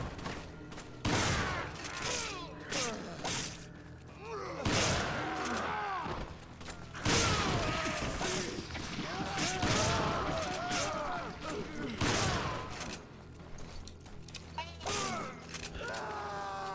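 Gunfire and combat chaos in a Resident Evil video game: dense bursts of shots and clanking mechanical effects layered with explosive blasts, loud and continuous, with people talking over it.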